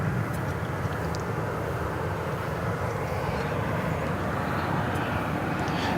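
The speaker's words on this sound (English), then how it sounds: "That is American Flight 389 to Mexico City, now rolling down 18 left," An American Airlines jet rolling down the runway for takeoff at DFW airport: a loud, continuous broadband engine roar that holds steady throughout.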